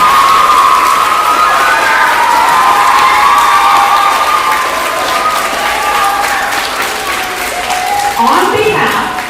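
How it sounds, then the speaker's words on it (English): Audience at a sixth grade promotion ceremony applauding and cheering for the graduates, loud sustained clapping with children shouting and whoops mixed in, continuing throughout. "Give them one more round of applause."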